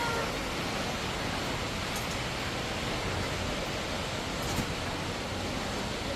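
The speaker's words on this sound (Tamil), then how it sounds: "மேலே போப்போ அருவி சத்தம் வந்து கூட கேட்குது." Steady, broadband rushing water like a waterfall, continuous and fairly loud throughout with no pauses.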